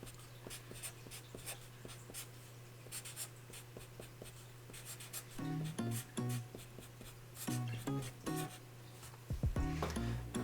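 A pen scratches and squeaks across paper while lettering a drawing of a New Year's Godzilla, a steady close stream of short strokes over a low background hum.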